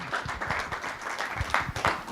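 Audience applause for a speaker at an evening talk on fighting climate change, a brief burst of scattered clapping in a hall lasting a couple of seconds, moderately loud with uneven rhythm.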